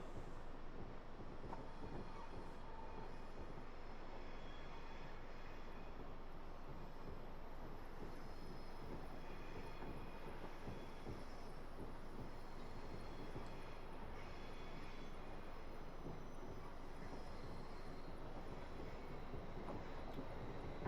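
A train in a simulator game on the Portsmouth Direct Line creeps into the platform, giving a steady low rumble of running gear with a faint whine above it, even and continuous with no talk.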